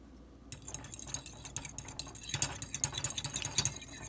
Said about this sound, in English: And then you're going to whisk them.